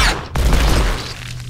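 Gunfire in the video game Evil Dead Regeneration: a sharp, loud blast followed by a dense, rumbling roar of shots and explosions that fades over about a second.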